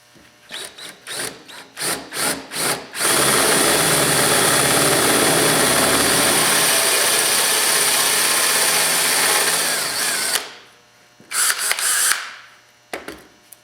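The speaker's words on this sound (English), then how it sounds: "clamp your pieces together and then drill the holes out" A power drill bores holes through clamped pieces for Polaris Ranger 900 front turn signal mounts: a few short bursts, then one long loud sustained whine of about seven seconds, followed by more brief bursts near the microphone.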